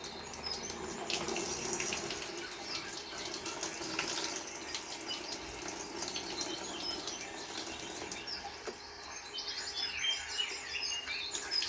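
Tap water runs steadily into a sink while watering a Tillandsia air plant, a continuous close splashing hiss lasting throughout, with faint bird chirps outside toward the end.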